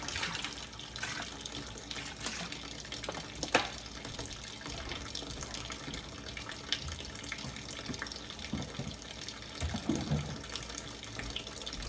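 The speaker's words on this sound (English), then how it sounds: "Need to add in a bunch of vinegar." Vinegar poured in a steady stream into a container, a continuous close splashing liquid sound with a few louder gurgles, no talking.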